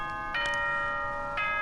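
A bright two-tone electronic school announcement chime from the video game Danganronpa rings out twice, each clear bell-like note sustaining and fading, with no voices over it.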